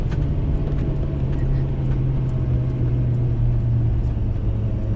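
A tuned Ford Powerstroke diesel pickup fitted with a Banks Derringer tuner towing over 30,000 lbs, its engine a steady, heavy low drone and rumble that holds continuously throughout.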